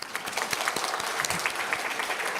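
A church congregation applauds a visiting missionary from Cambodia during a Sunday service, with a dense, steady wash of many hands clapping close by and no talk over it.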